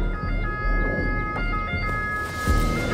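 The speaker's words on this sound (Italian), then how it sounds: "Sento il rumore di un'ambulanza" An ambulance siren heard from a distance outdoors, its faint wailing tone running under steady background rumble across the whole stretch.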